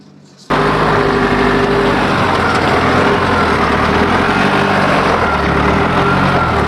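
A Toyota Landcruiser 79 four-wheel drive grinds up a rough off-road bush track, its engine cutting in abruptly and then droning loud and steady under load, close by and with no voices.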